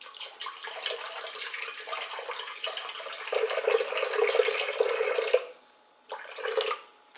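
Coconut water is poured into a container for a smoothie, a steady close splashing trickle that runs for several seconds, then stops, briefly resumes, and ends.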